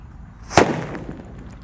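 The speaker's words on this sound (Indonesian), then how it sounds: "Seperti itu suaranya mercon petir" A single sharp, loud mercon petir firecracker goes off nearby, and its bang fades quickly into a short tail over quiet background noise.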